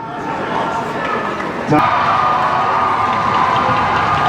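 A crowd at a high school ice hockey playoff game between Falmouth and Hingham cheers loudly and steadily late in the third period, swelling into a sustained roar partway through.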